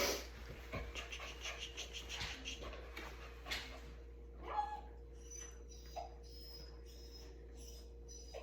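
A dog sniffs and pants at close range during reward-based training with treats and a brush. The sounds are quiet, soft, and irregular over a low, steady background hum, with a few faint voices.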